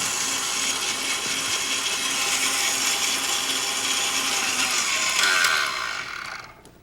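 An electric mixer beats buttercream in a bowl with a loud, steady whir that holds even for several seconds, then winds down and stops near the end.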